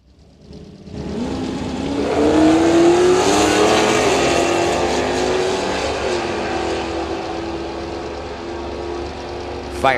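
A Ford Mustang and a Firebird launch side by side in a drag race at a test-and-tune event, engines roaring up loudly, then holding a sustained high rev that fades slightly as they pull away.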